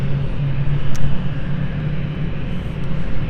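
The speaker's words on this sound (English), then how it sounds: "as we expect Malaga flight BA8487 now set to depart soon" Continuous low jet rumble of an airplane at London City Airport, heard from a distance as a broad, steady roar with a faint tonal hum and no talk.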